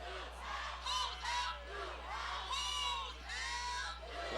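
A high school football cheer squad and crowd at Hawthorne vs Leuzinger shout in repeated rhythmic bursts, several chant phrases rising and falling over a few seconds, fairly distant.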